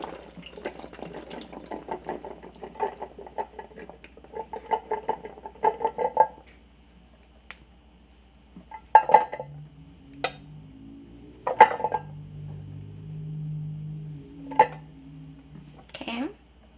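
Canned chickpeas pour from an opened can into a strainer in a kitchen, a rattling, splashing burst of liquid and beans followed by scattered clinks and knocks of metal and utensils.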